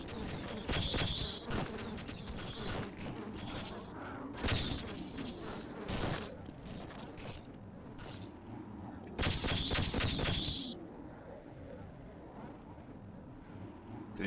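Buzzing flies swarm in the Half-Life video game, a droning hum that swells and fades among sharp bursts of weapon fire and clattering game noise over the stretch.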